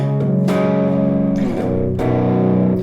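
A distorted electric guitar through a Zoom G1X Four or G1 Xon multi-effects pedal plays sustained chords, with a thick, saturated mid-gain tone that rings out and changes twice.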